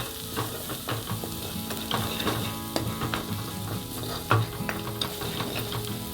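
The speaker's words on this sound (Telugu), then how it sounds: "కారం కూడా పచ్చివాసన పోయేంత వరకు ఫ్రై అవ్వాలి" Chili powder fries in a pan for a mutton tilli curry, giving a continuous close sizzle broken by frequent clicking stirs and scrapes against the pan, with no voices.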